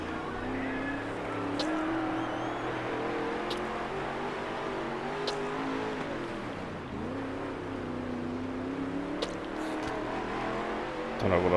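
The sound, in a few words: race car engine revving in World of Outlaws Dirt Racing video game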